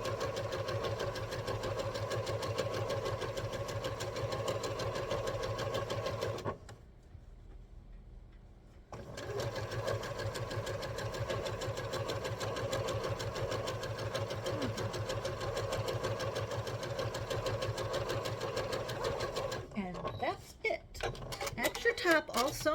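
A sewing machine stitches an ocean-themed quilt top with a steady close mechanical whir, pausing briefly about a third of the way through, then ending with clattering handling noises.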